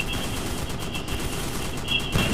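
Gunfire in the Roblox horror game Project House of Monster, a steady stream of rapid shots running throughout at an even level, with a slightly heavier burst near the end and no talking.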